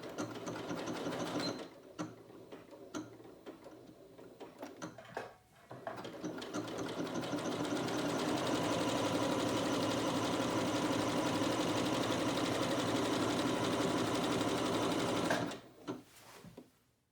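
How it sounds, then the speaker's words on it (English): A sewing machine stitches a seam down the leg of a pair of trousers, running loud and steady for about ten seconds after a few short starts, then stopping. "And now I'm going to stitch from this red X all the way down my leg."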